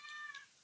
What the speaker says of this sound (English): And I'm sorry for the cat meowing.